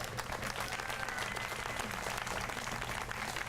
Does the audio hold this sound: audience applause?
yes